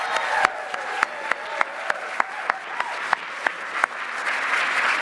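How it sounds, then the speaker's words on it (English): A room at a convention closing ceremony breaks into applause for the staff and volunteers, a dense patter of clapping with a few louder claps rising above it. "Let's give a round of applause to all the Convergence staff and volunteers."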